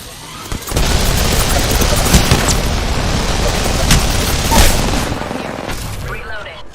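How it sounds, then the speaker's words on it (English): Dense, continuous gunfire and booming blasts from a shooter video game, loud and sustained across the whole stretch with sharp cracks standing out, fading slightly at the end. "Shooting. Taking fire."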